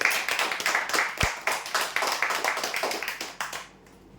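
A crowd applauds a prize-draw winner with a steady patter of claps that fades out at the end.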